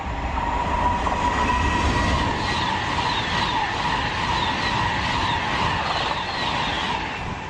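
An Avanti passenger train rumbles past a station platform at close range, a steady loud roar of wheels on rails with faint squealing tones riding over it throughout.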